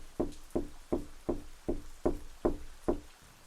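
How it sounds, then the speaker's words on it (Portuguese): Eight firm knocks on a door come in an even, unhurried rhythm, each a sharp, fairly close thud that fades quickly, against a quiet background. "alguém chegou e bateu na porta"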